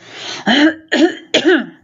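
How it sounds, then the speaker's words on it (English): Three rough, forceful throat-clearing rasps in quick succession, close and loud, with a short breathy lead-in. "Sorry, just gotta clear my throat"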